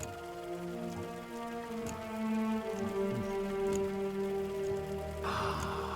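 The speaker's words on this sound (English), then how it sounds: "Large droplets of rain" Large raindrops spatter against the windshield of a Model T driving through downtown Boston, heard as scattered taps over a steady engine hum, with a brief louder rush near the end.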